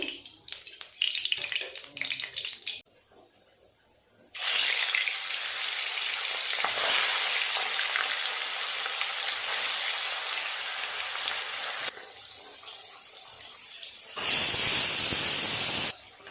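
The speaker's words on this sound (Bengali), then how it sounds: "মাছ ভাজার জন্য তেলটা দিয়ে দেব" Loud, steady sizzling and hissing of fish frying in hot oil, with bursts that start and stop as the pan is worked.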